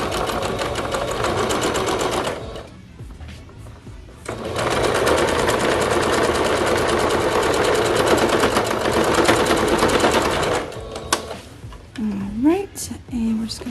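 A sewing machine runs a straight stitch on paper bag bloomers with a loud, close, continuous whirring hum, stopping briefly around the two-second mark before a long steady run, then quieting as fabric rustles and handling noises follow.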